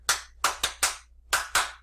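Six sharp hand claps in an irregular rhythm, a few in quick pairs, each distinct and close with silence between, during a sermon.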